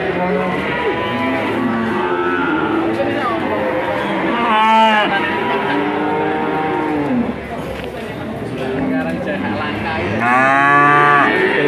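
Several cattle, including Belgian Blues, moo loudly nearby at a livestock market, long drawn-out lowing calls overlapping one another, with people talking underneath.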